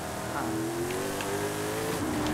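Car engine revving steadily with a rising, sustained drone in the Forza racing video game, an off-road race with pickups and 4x4 cars, loud and continuous with no talk.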